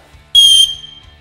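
An emergency whistle clipped to the sternum strap of a survival backpack gives one sharp, loud, shrill blast of about a third of a second, then a short fading ring in a quiet room.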